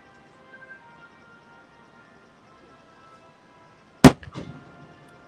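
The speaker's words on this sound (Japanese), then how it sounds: "すごい綺麗だね、やっぱ花火は。" A single sharp firework burst at the Nagaoka festival fireworks display in Japan, loud and near after a long quiet stretch of faint crowd ambience, followed by a short crackling tail.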